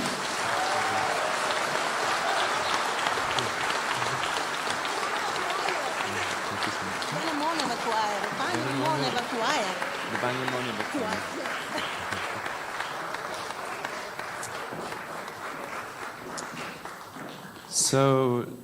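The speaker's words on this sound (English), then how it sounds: "A huge round of applause, everyone, for Cosmic Voices Choir." An audience applauds a choir at a live Save Soil event in Sofia, with steady massed clapping throughout, cheering voices and calls rising through the middle, and a brief louder burst near the end.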